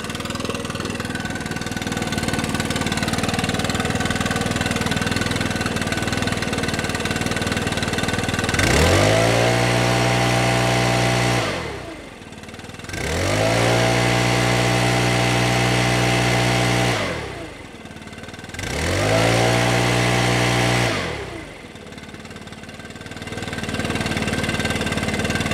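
A Stihl BR600 backpack leaf blower that is losing power runs at a steady drone, then roars up to full throttle in three long bursts, each dropping back between them. The engine is loud and close, with no talking.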